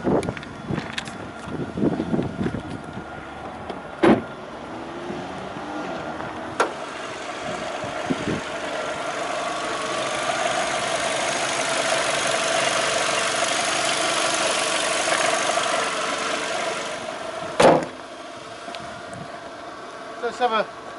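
A car engine idles steadily under an open bonnet at a country car dealer, a constant low rumble with light wind noise across the microphone and a few sharp knocks or clicks.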